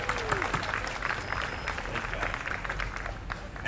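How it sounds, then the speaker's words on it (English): A crowd at a Fourth of July parade in LaGrange, Georgia, claps and cheers outdoors, a rough, continuous spread of applause with a few voices mixed in. "Let's give another round of applause to our Grand Marshals and their families that are here as well."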